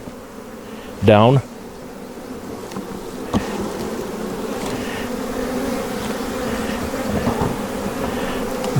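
Bees hum steadily around an open hive during an inspection, a dense close buzz that runs throughout, with one brief sharp sweep near the start and occasional small knocks, while a person speaks briefly.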